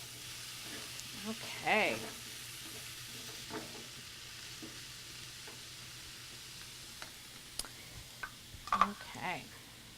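Softened vegetables sizzle quietly in a pan for a curried coconut lentil dish, with occasional stirring clinks and scrapes; a person speaks briefly and softly over the low steady frying.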